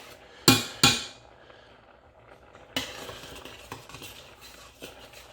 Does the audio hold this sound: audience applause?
no